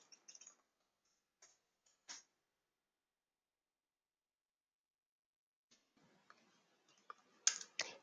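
Sparse, quiet clicks of computer keyboard typing come in short bursts, separated by a long silent pause before a denser run of keystrokes.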